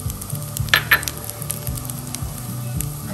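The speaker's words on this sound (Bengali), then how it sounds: "এখন আমরা আলমন্ডগুলোকে ভেজে নিব।" Almonds and pistachios fry in a pan with a soft, steady sizzle, broken by a couple of sharp stirring clinks from a utensil early on before the quiet crackle carries on alone.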